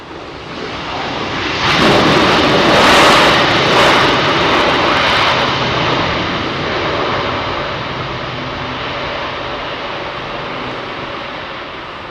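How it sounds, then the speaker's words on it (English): A WestJet Boeing 787 arriving from Calgary at London Heathrow, a loud broadband jet roar that swells early and holds, then slowly fades as the airliner passes close by. "This is WestJet 787 in from Calgary"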